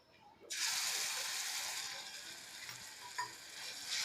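Masala paste hits hot oil in a pan and erupts into a loud, steady sizzle that holds strong and close, fading slightly before surging again near the end.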